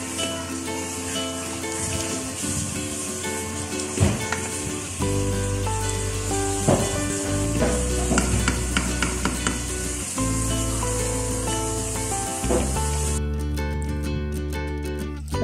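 Yogurt stirred into frying palak chicken in a pan: a loud, continuous sizzle with scraping stir strokes, under steady background music.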